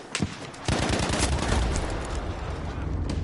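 Battlefield V gunfire: a couple of sharp single shots, then a sustained burst of rapid automatic fire that carries loud and continuous to the end.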